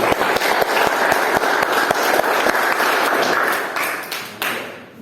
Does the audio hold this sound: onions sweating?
no